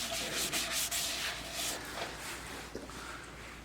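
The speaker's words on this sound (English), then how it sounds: "So now I'm back into the abrasive paste again." Abrasive paste is rubbed against a turning birdseye maple bowl on a lathe, a close, steady scratchy rasp with brief catches.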